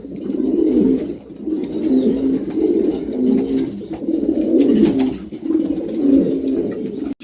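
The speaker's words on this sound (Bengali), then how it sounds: "খুবই চমৎকার এক জোড়া কবুতর আছে" A pair of pigeons coo steadily and loudly at close range, their low rolling calls repeating in overlapping phrases with no talk.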